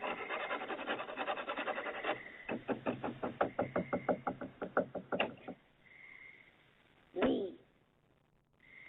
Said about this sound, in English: The person repeats the words, "Let me in," as they scratch and knock on the back door.